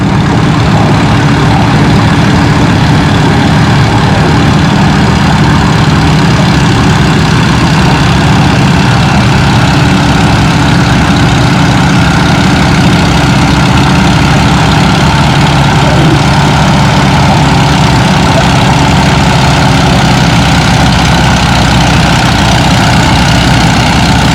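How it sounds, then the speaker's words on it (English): An Allis-Chalmers B14 pulling tractor drags a sled at a tractor pull, its engine a steady, loud, unbroken drone that stays heavy the whole way, with no talk over it. "Next tractor on the sled is the Alice B14 with Tim Alderleaston driving."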